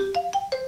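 Three stepped electronic tones from a phone ringing in the game Saiko No Sutoka sound in brisk succession, close and prominent with nothing else heard.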